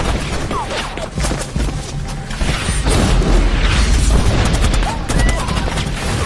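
An explosion in a war film set in a Nigerian conflict zone: a loud, dense roar of blasts and gunfire-like rumble filling the whole stretch, with no clear speech over it.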